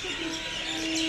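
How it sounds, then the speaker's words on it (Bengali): Birds chirp at a village railway station, a dense wash of overlapping calls and tweets at moderate distance, continuous over a steady outdoor background. "পাখিদের কিচিরমিচির আওয়াজ,"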